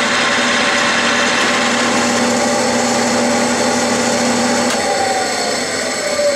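Lathe facing off a shoulder on a pulley, a loud steady machine drone with a faint rising tone near the end, no voices.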